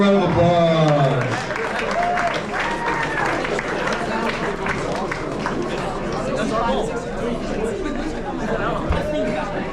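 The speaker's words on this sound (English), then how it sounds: "All right, give a round of applause." Applause and cheering fill a room at a high school basketball awards banquet, steady clapping mixed with crowd chatter and voices throughout, loud and close.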